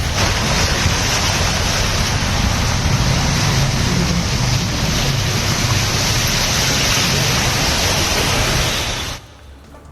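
Heavy monsoon rain pours down in Pune, a dense, loud, steady hiss of falling water that cuts off abruptly near the end.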